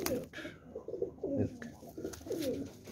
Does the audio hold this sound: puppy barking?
no